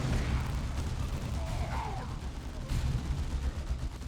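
Gunfire from the video game Dawn of War II forms a dense, continuous rumble of shots and explosions, steady and loud throughout, with a brief whistling tone in the middle of the battle din.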